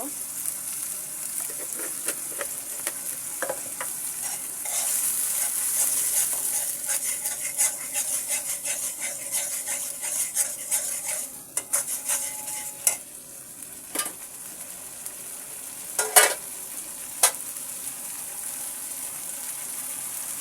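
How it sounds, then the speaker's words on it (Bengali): Spice paste with two spoons of turmeric powder sizzles and fries in a pan while being stirred and scraped, a steady hiss broken by clinks and scrapes of the spoon, with no talking. "এখন দিয়ে দেব হলুদের গুঁড়ো দু চামচ পরিমাণ মশলাটাকে আমি এবার কষিয়ে নিব"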